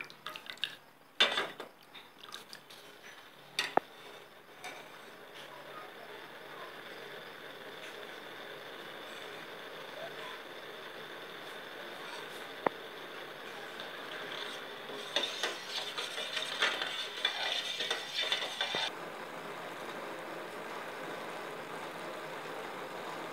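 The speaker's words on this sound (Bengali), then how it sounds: "এটাও আমরা ভালো করে চামচে করে মিশিয়ে নেব, যাতে আর কোনো রকম চিনির দানা এই শিরাতে না থাকে" A spoon stirs sugar syrup in a pan, giving a few sharp metallic clinks and knocks at first, then a faint continuous scraping and rubbing with a busier stretch of stirring near the end, no voices.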